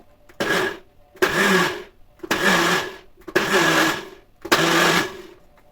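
A noisy blender mixes a cheese dessert in a home kitchen, running in five loud bursts of about a second each with short pauses between them.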